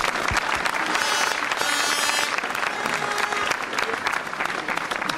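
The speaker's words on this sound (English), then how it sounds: "A round of applause for all the coaches in the club." Sustained applause from a crowd at a senior championship final awards speech, steady and dense clapping throughout, with a few murmuring voices mixed in.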